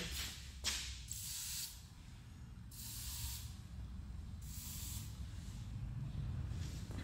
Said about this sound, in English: I will just randomly take a silicon spray.